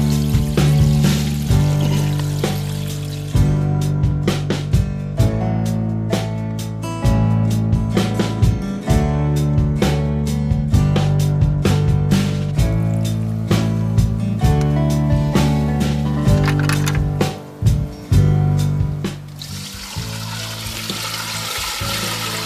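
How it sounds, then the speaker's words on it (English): Water draining from a small portable washing machine, a steady pouring gush with sharp repeated clanks and knocks over it, loud and close, easing off near the end. "just take this latch off here, let it drain the water out."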